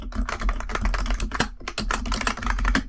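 Fast, clattering keystrokes on a computer keyboard as a terminal command is entered, a close, steady stream of crisp clicks with a brief pause midway.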